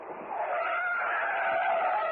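Tires screech as a police car with a red light on top pulls up in a London-set radio drama, a short, close skid that swells and holds steady.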